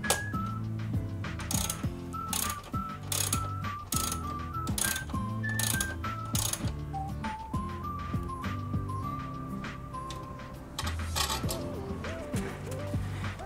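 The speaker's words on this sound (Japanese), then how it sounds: "無事にボルトが取れました。" A wrench ratcheting a bolt loose on a Tomos motorbike while fitting a side bag stay, a long run of rapid clicking ratchet strokes with short pauses between, close and fairly loud.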